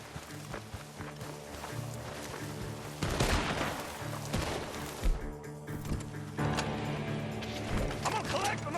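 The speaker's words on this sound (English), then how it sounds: "The gunshots are coming from that barn." Gunfire rings out from a barn during a shootout in Red Dead Redemption 2, with scattered shots, mechanical clatter and running footsteps under overlapping voices.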